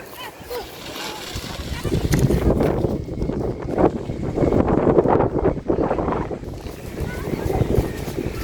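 Strong, gusty wind buffets the microphone outdoors, roaring and rumbling unevenly through the whole stretch, with voices faintly under it.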